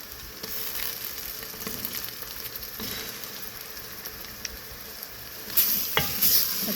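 Spices and beef frying for nihari in a pot: a steady, moderately loud sizzle with occasional scraping stirs, a louder burst of crackle near the end, no talking.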